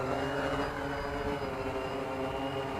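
An x16 GPS quadcopter drone's propellers spin up on a one-key takeoff, a loud, steady whirring hum with a constant tonal whine close by.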